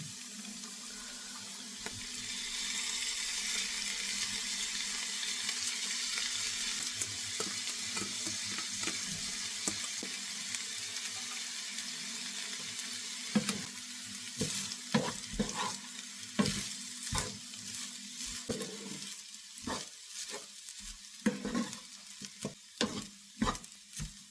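Rice stir-fried with garam masala in a hot pan for fried rice, giving a steady close sizzle with scraping and clattering stirring strokes that grow busier and more percussive toward the end, with no voices.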